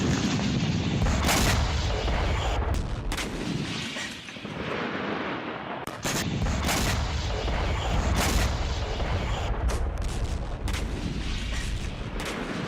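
A missile strike on Safed, Israel, reportedly by Malak-1 missiles, with repeated loud booming blasts and sharp impacts spread irregularly over a steady roar of rumbling noise, with no talking.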